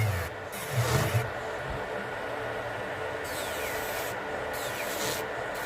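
Nails are filed by hand beside a 70W cordless rechargeable dust collector, a steady scratchy rubbing in repeated strokes over the unit's continuous fan whir, close and fairly quiet, with no talking.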